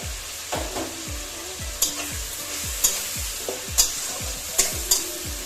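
Tomatoes frying in a pan with turmeric for Gobindobhog rice khichuri, a steady close sizzle broken by about nine rhythmic scraping stirs of a spoon against the pan, with no talk.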